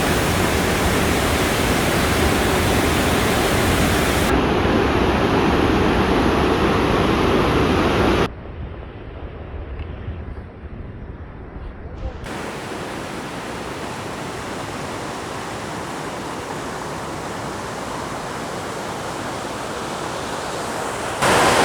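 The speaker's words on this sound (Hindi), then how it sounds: "यहाँ से पानी का अखराज होता है।" Waterfall in Kumrat Valley, with rushing water pouring as a dense, continuous roar that stays loud the whole time, shifting in tone partway through without any voices.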